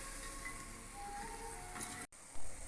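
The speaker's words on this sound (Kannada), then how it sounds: "ಎಣ್ಣೆಲಿ ಈಗ ಡೀಪ್ ಫ್ರೈ ಮಾಡಿ" Gulab jamun dough balls made with milk deep fry in hot oil, giving a soft, steady sizzling hiss with faint crackles and a brief clatter near the end.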